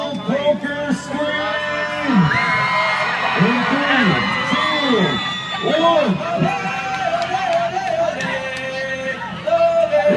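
At an outdoor rodeo in Leamington, Ontario, a large crowd whoops, yells and cheers continuously in loud swelling bursts, with shouted calls rising and falling over the noise.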